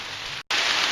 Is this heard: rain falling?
yes